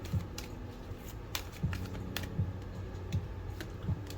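Tarot cards are shuffled by hand in short, repeated riffling bursts, producing soft papery slaps and clicks at roughly even intervals against a quiet room.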